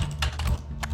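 A cat walks across a computer keyboard, its paws pressing keys in a few soft, uneven clicks over about a second, close by, with a low hum beneath.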